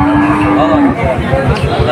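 At a busy cattle market in Churighata, Jessore district, a cow or calf lets out a drawn-out moo over the steady background murmur and chatter of the crowd.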